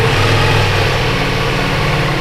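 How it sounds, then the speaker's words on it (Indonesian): A Ducati Multistrada V4S motorcycle with its stock exhaust idles close by. Its V4 engine gives a loud, steady, throbbing rumble with no talking over it. "Kita coba nyalain ya."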